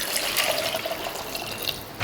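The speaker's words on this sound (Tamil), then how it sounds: "இப்போ தண்ணி ஊற்றிக்கலாம்." Water pours steadily into a pot of sambar in a home kitchen, a continuous close splashing rush lasting about two seconds with no talk.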